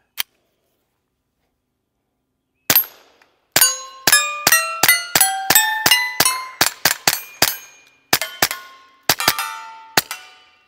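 A SIG P322 .22LR polymer pistol fires rapidly at steel targets outdoors, each sharp crack followed by a bright ringing clang; about twenty shots come in a quick, uneven string after an isolated first shot, loud and without talk.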